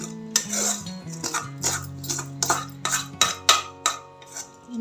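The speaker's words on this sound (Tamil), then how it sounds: "குக்கரில் ரைஸை சேர்த்துருவோம்." Uncooked rice going into a pressure cooker sets off a series of sharp metallic clinks and clatters against the vessel, several close taps arriving in an uneven rhythm over a faint steady hum.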